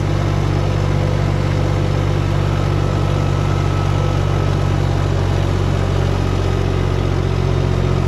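A New Holland T580B tractor in two-wheel drive pulls a load up a ramp, its engine droning loud and steady with a constant low rumble throughout.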